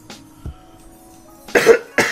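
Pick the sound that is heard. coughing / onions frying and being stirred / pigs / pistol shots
coughing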